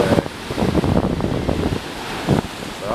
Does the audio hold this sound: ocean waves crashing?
yes